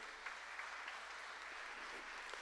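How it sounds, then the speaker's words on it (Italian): Audience applauding at a Christmas concert in a sanctuary: a steady, fairly faint wash of many hands clapping that holds evenly throughout with no talking. "Un applauso."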